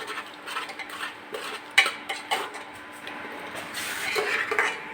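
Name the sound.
stirring brinjal curry with onion and coriander in a pot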